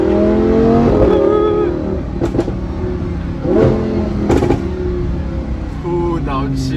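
A Lamborghini fitted with a gold Fi exhaust revs loudly nearby and downshifts, engine notes rising and dropping with sharp pops and crackles, under excited voices talking and exclaiming.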